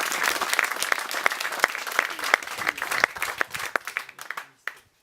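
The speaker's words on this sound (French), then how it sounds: "on peut l'applaudir quand même" A crowd applauds a prize winner at a garden-challenge awards event, with sharp individual claps standing out from steady applause that thins and dies away near the end.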